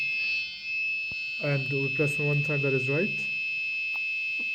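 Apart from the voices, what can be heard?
alarm buzzer sounding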